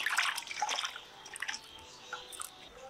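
Toasted dried red chillies are rinsed in water by hand, making faint, close splashes and drips in short irregular bursts that fade toward quieter trickles.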